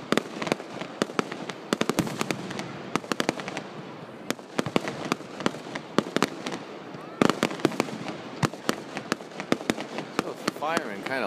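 Fireworks firing low to the ground at a 2012 display, a dense, continuous barrage of sharp bangs and crackles close by, with faint voices underneath.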